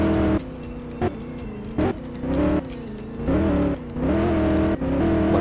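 A tuned BMW X6M Competition in a racing game drives hard on a track, its engine droning loudly and revving up and down through repeated gear shifts, each shift marked by a brief dip and jump in pitch.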